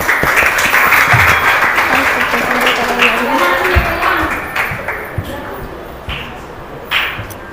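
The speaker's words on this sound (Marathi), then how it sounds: "या मुलांचेही टाळ्या वाजवून खूप कौतुक" A room of parents claps for children at an annual school gathering, a dense burst of applause that thins and fades over several seconds, with voices talking underneath.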